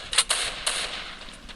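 Gunshots in the Free Fire mobile battle game, likely from a Kar98 rifle: a couple of sharp, bright cracks close together, then a fainter later shot over a thin hiss.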